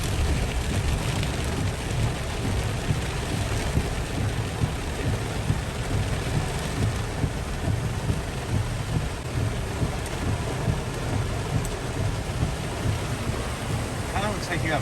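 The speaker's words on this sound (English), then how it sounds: "Look how much rain's out there, guys." Heavy rain pours down steadily outdoors while thunder rumbles low beneath it, a dense continuous roar with no pauses.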